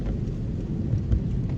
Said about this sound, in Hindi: भाई बारिश रुकी नहीं, पता नहीं क्या चक्कर हो रहा है आज।